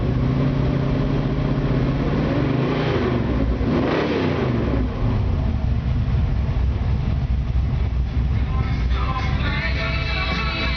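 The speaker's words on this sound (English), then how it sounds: "Let me hit that gas real quick and show you the oil pressure." A 1970 Camaro with a 454 big block V8 revs loudly and close, the engine note climbing sharply then falling back to a deep, rumbling idle.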